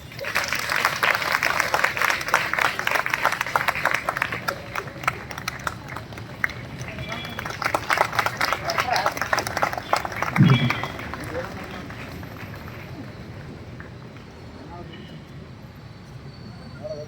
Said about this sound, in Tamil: கைத்தட்டலாங்க.